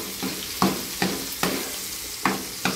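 Garlic sautéing in hot cooking oil for ginisang mongo gives a steady close sizzle, broken by five or six regular scraping strikes of a spatula stirring the pan.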